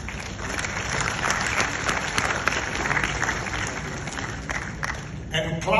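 Crowd applause fills a hall where an audience gathers to hear Kennedy Agyapong speak about his journey to success, a dense steady clapping sustained for several seconds before thinning out near the end.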